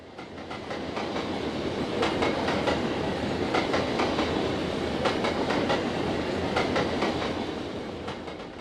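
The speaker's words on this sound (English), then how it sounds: "Train 15K is passing over one of Norfolk Southern's defect detectors." A long Norfolk Southern manifest freight train in a train simulator game, led by an SD70ACE locomotive, rolls past close by over a defect detector, a steady rumble with rhythmic clickety-clack of wheels over rail joints throughout.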